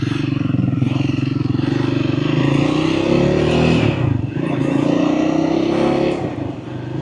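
A Triumph Scrambler 400X motorcycle hums steadily under the rider, its engine note climbing and dropping through gear changes, loud and close with rushing wind, and nobody talks.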